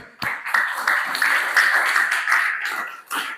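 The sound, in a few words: class clapping hands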